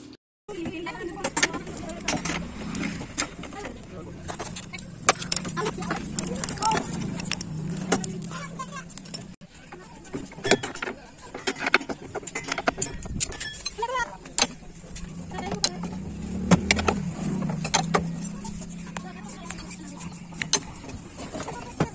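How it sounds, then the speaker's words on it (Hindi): A car's crash guard is unbolted to fit new fog lamps, with intermittent metallic clicks, clanks and tool rattles against a low background hum, and someone talks throughout. "हमारे कार के क्रैश गार्ड को खोल लेते हैं फटाफट से"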